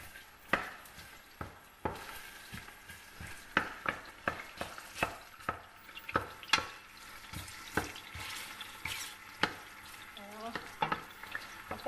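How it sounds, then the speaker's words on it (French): Onions sauté in a hot pan, sizzling steadily while a utensil stirs and scrapes against it in sharp, irregular clacks throughout. "on va rissoler nos petits oignons comme ça"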